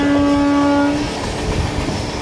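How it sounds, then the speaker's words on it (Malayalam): A train horn sounds loud and steady for about a second, then gives way to the rumble and clatter of a running train as it crosses the Bhavnagar Okha Express near Khambhalia station. "ഇവിടെ വെച്ച് നമ്മൾ ഭാവ്നഗർ ഓഖ എക്സ്പ്രസ്സിനെ ക്രോസ് ചെയ്യും."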